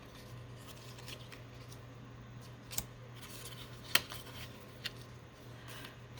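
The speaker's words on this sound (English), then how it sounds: "Let's see which scissors will do me the best on this." Scissors snipping paper while making paperclip banner bookmarks, a few sharp isolated cuts over a quiet room with a steady low hum.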